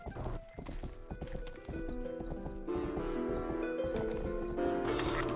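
A horse in the video game Rustler gallops with steady, rapid clip-clop hoofbeats over a layered game music track. A whinny is mixed in and there is no speech.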